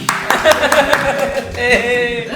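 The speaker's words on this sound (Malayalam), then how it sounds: "കൊച്ചുവിന് ഒരു കൈയ്യടി കൊടുക്കി" A family claps together indoors during a guessing challenge, a quick burst of hand claps in the first second, then talk and light laughter take over.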